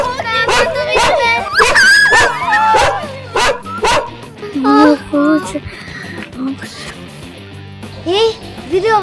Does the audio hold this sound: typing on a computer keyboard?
no